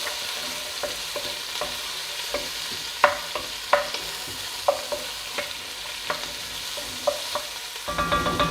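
Diced carrots cook in a pan over medium heat with a steady low sizzle, punctuated by irregular clinks and scrapes of a utensil stirring, some sharper knocks standing out; no voices.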